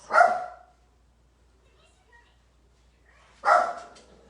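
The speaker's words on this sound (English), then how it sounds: "Oh my gosh, these puppies." Puppies give two short, sharp barks indoors, a few seconds apart, close and fairly loud, with quiet between them.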